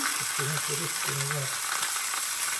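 Steak sizzling in a cast iron frying pan bought at Ikea, a steady loud crackling hiss throughout, with a few faint scraping or stirring sounds near the start.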